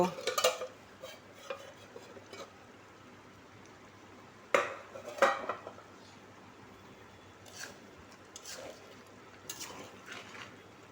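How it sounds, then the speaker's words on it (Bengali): A lid goes onto a pot of raw banana and potato curry left to boil, giving a few sharp metallic clanks separated by quieter kitchen clatter and low background hiss. "ঢাকনা দিয়ে দেবো।"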